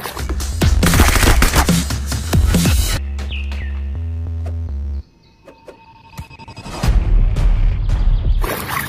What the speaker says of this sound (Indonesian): Wah, yang ini mainan tembak-tembakan